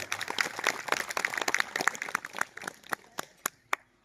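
An audience at a Gujarati devotional gathering claps in a burst of applause, dense at first. It thins into scattered, separate claps that die away toward the end.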